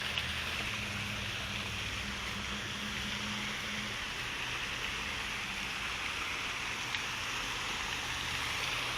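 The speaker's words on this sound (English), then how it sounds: "Waterfall." Steady rushing water from a small waterfall and stream at a memorial pond, a continuous broadband wash heard at low level with no talk.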